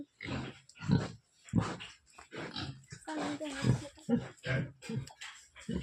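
Mother sow and piglets in a bokashi-bedded pig pen, grunting and squealing in a series of short, close bursts separated by brief gaps, with a person's voice mixed in among them.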